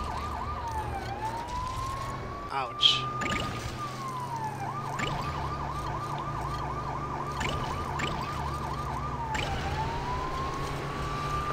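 A police car siren from the Lego City Undercover video game wails steadily, shifting between a long rising-falling tone and rapid yelps, with engine hum underneath and a brief exclamation from a player.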